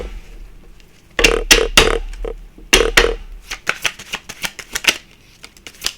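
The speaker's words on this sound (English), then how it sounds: "Let's cut the cards here." Tarot cards being cut and shuffled, a run of sharp riffling bursts and slaps that come in clusters, close and fairly loud, then quicker lighter card flicks, with no voices.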